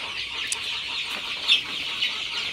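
Sonali super hybrid chicks, 26 days old, cluck softly during their morning watering, a low chattering murmur with a couple of louder calls standing out, no voices.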